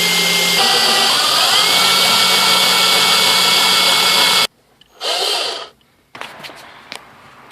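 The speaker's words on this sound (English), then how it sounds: "So now you can use a hole saw" Power drill driving a hole saw through the body panel of a 2015–2016 Nissan Sentra to fit a camera, a loud sustained whine for over four seconds, then a short burst and scattered clicks after the motor stops.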